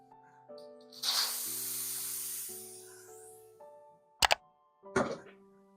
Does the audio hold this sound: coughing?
no